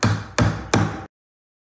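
Hammer striking a nail during electrical outlet installation, three sharp loud close knocks in even rhythm, each ringing briefly before the next, then silence.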